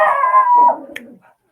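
A dog howls outdoors in one long, loud, wavering cry that slides downward and trails off into a fainter whimpering tail, followed by a brief quiet yip.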